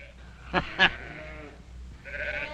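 Sheep bleat in a Bonanza western scene, with two short close calls followed by a longer quavering bleat, alone without talk.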